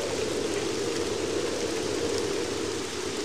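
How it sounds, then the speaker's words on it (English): Steady, dense rain falls throughout in a windy outdoor setting, a constant close wash of broadband hiss with no pauses and no voices. "It's raining."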